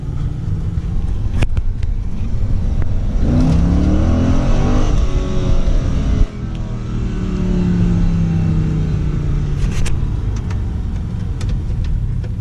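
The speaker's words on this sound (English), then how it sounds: "this thing does a mean ass burnout" A 2006 Pontiac GTO 6.0 doing a burnout, a loud, close V8 roaring and revving under sustained tire spin for several seconds, with a brief dip midway before it builds again.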